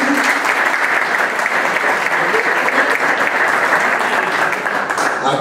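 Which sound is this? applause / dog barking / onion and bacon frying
applause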